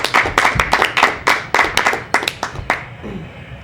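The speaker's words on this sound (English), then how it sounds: "Let's give him a round of applause." A small audience at an improv comedy playoff claps in distinct, separate bursts that thin out and stop toward the end, close and fairly loud.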